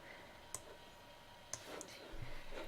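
Two crisp computer mouse clicks about a second apart, clicking the stop button in Scratch, close and quiet over faint room noise.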